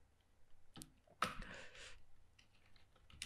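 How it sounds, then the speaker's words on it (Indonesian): Clicks of typing on an external computer keyboard while coding, a few faint scattered keystrokes with a slightly louder burst in the middle, quiet and close with no talk. "saya lagi pakai keyboard eksternal ini agak belum familiar"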